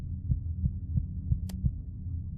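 A heartbeat sound effect in the dungeon crawler game Netherwhisper: a steady run of deep, thudding beats about three per second over a low droning hum, with one brief sharp click in the middle.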